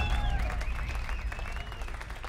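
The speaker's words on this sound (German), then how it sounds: "Bitte einmal einen Applaus für meine Jungs" A crowd at a live stage show in Baden applauds, a dense, fairly close patter of clapping mixed with cheers and a high whistle or whoop rising over it, with a low rumble underneath.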